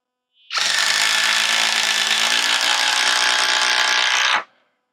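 A 12-volt impact driver drives a 4-inch GRK screw into wood with one loud, continuous rattling hammer burst lasting about four seconds, starting and stopping abruptly, with no talk.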